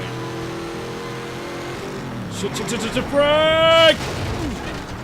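Racing car crash in the video game Shift on the London River track, an engine drone followed by a loud burst of impact noise and a brief whining screech near the end, with a voice speaking over it.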